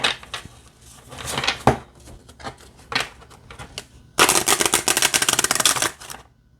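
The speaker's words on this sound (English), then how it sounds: "let's give it a shuffle" Crisp riffling and flicking of a glossy oracle card deck, scattered soft shuffles early, then a loud, dense burst of rapid card riffling for about two seconds.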